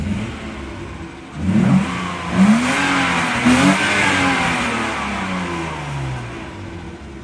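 BMW E36 with a swapped-in six-cylinder engine, warmed up and fitted with exhaust, revs up in several short throttle blips over a steady idle, then settles back; close and loud with no talking.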